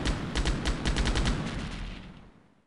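Rapid bursts of automatic gunfire crackle in the Delta Force video game, a dense run of sharp shots pounding for about two seconds before fading out, loud and close with no voices.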